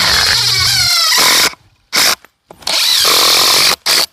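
A power drill backs screws out of a wooden mailbox post in several short, loud whirring bursts separated by brief pauses.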